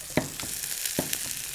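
Meat sizzling in a hot pan, a steady crackling hiss with a few louder pops and spatters.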